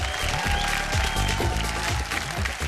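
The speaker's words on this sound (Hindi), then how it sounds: "जोरदार तालियां।" Studio audience applause on a TV game show, loud continuous clapping over a steady musical backing with a thumping beat.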